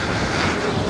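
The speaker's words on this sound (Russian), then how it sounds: "Да, там идет поток, видите, вода выходит." Floodwater rushes onto a beach at Anapa and mixes with the surf, making a continuous loud roar of water with heavy wind buffeting the microphone.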